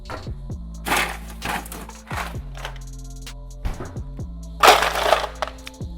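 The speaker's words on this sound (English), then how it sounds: "About a scoop of ice." Ice scooped into a rocks glass at a cocktail bar while mixing a honey calamansi drink, with several close crunching, clattering bursts of cubes striking glass in uneven succession over a steady low background hum.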